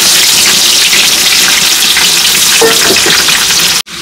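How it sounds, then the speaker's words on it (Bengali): Whole spices, tomatoes and onions hit hot oil with a loud, dense, continuous sizzle and crackle close up, ending in a brief clatter. "তেল গরম হয়ে গেছে গরম মশলাগুলো ছেড়ে দিলাম টমেটোগুলো পেঁয়াজগুলো দিয়ে দিলাম"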